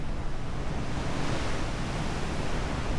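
Wind and ocean waves roar in a steady, dense wash of broadband noise on the deck of the NCL Jade cruise ship in rough seas, loud and unbroken, with no talking.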